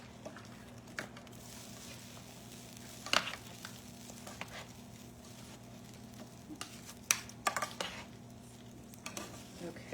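Cauliflower rice being stirred with onions and peppers in a pan for a low carb jambalaya, giving a soft scraping and gentle sizzle with a few louder utensil clinks against the pan.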